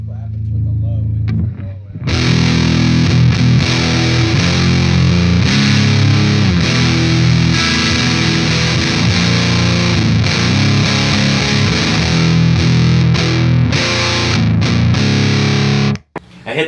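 A heavily distorted electric guitar in drop B or B standard tuning roars through a Sunn Model T clone amp, thick and loud chugging riffs sustained for most of the stretch after a short quiet start.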